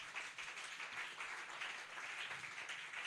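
A church congregation at a Friday service applauding, a steady wash of many hands clapping together, sustained and fairly even in loudness throughout, with no clear speech on top.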